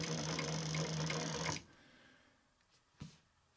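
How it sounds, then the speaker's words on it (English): An industrial high-speed sewing machine runs on heavy material: a fast, loud, steady mechanical whir for about a second and a half, then stops, followed by quiet room tone and a couple of faint knocks. "It's an industrial sewing machine for high speed sewing only on materials like this."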